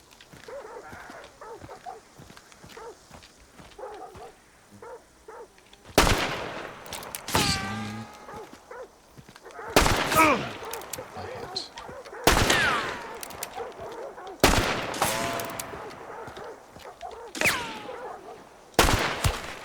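Gunfire in the game Hunt: Showdown from a pistol, heavy shots cracking out one at a time at uneven intervals with short echoing tails, some loud and near, against a quiet background.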